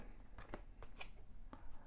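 Tarot cards are shuffled in a few soft, quick riffles and taps, faint and close, with no talking.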